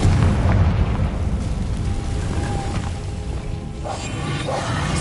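The Confringo fire spell in Hogwarts Legacy erupts with a heavy, booming explosion that rolls into a long, rumbling, crackling decay, loud and close.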